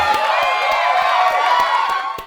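A large crowd cheers and applauds steadily, a dense continuous roar of clapping and shouts that fades out at the end.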